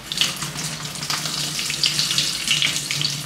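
Leftover liquid and brine splash steadily down a kitchen sink drain in a cellar, a close, continuous gurgling pour with no one talking.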